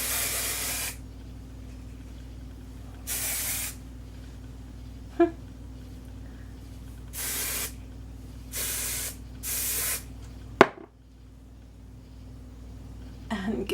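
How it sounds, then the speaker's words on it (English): Aerosol hairspray misted onto flat hair in several distinct hissing bursts, each a second or so long with pauses between, fairly close, over a steady low room hum, with a couple of faint clicks. "So let's see what we can do with this hairspray."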